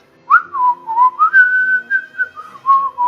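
A person whistles a wavering, melodic tune that imitates a tour guide in the tabletop game Call of Cthulhu, the pitch sliding up and down in short phrases, close and clear with no other sound.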